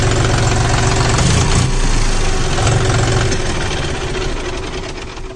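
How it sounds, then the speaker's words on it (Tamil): John Deere 5045D tractor diesel engine idling close by, a loud, steady low chugging knock that eases slightly toward the end, with no talking. "இன்ஜின் ஒர்க் நீட்டாக இருக்குங்க, எந்த இஷ்யூஸும் இல்லை."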